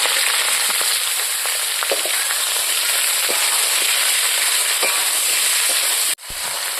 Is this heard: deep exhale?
no